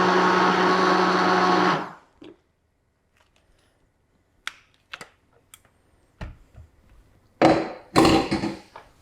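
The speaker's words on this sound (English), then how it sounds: "I'm just going to blend all of these together with a hand blender." A hand blender whirs steadily through roasted tomato soup for about two seconds, then cuts off, followed by scattered clinks and knocks.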